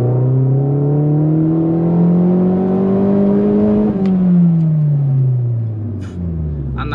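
A small turbocharged Opel Corsa OPC engine revs up steadily to near its cutoff at about 6,000 rpm, then drops back down, loud and close with a rising and falling whine.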